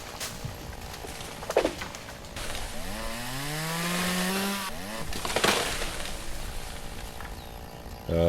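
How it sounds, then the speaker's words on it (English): A chainsaw cuts down trees in a forest, its engine rising and falling in a long revving pass with a sweeping pitch and sharp knocks between, moderately distant with faint birdsong around it. "Always dangerous when you have the chainsaw above your head."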